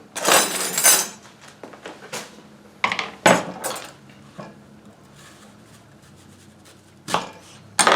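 A knife cuts an apple in half for sweet and sour red cabbage, giving a few sharp, close crunching cuts and knocks on a board, separated by quieter pauses.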